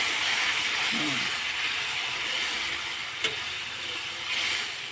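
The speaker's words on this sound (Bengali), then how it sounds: "আমি এখন একটু জল দিয়ে দেবো চলো জলটাও দিয়ে দিই অল্প করেই দেবো" Water poured into a simmering pan of spicy Bengali fish curry, giving a steady steam-like hiss and sizzle throughout, close and moderately loud, with a brief sharp tap partway through.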